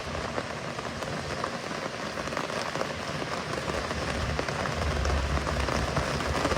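Steady rain falls around a parked Jeep in Colorado, a dense continuous hiss that swells slightly louder toward the end, with no voices heard.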